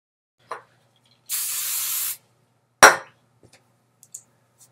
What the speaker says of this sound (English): So what I do first is I spray it with hairspray,